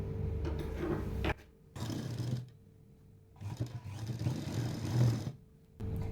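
A sewing machine stitches along the edge of a kurti in three bursts of whirring motor and needle, with short quiet pauses between runs.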